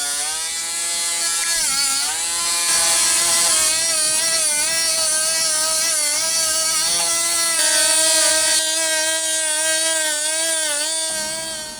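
An Aldi budget rotary tool, Dremel-style, running at medium speed against an old 2p coin, giving a loud, steady high-pitched whine that wavers slightly in pitch as the bit loads and speeds up, with no talk.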